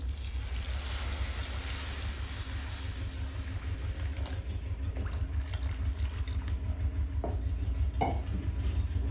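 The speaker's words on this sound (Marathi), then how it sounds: "आता आपण ह्याच्यामध्ये गरम पाणी ओतून घेणार आहे।" Hot water is poured into oil-fried spices for a village-style shev bhaji cooked on a wood-fired clay stove, giving a continuous loud rushing, bubbling roar that holds steady throughout, with no talking.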